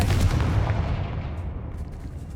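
Confringo blasting spell in Hogwarts Legacy, a heavy booming explosion that hits loud at the start and rumbles away as a fading, crackling tail.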